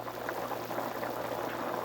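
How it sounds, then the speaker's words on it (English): A pot of corn chowder soup at a steady boil, with continuous close bubbling and gurgling and no pauses. "One quick tip while this is boiling"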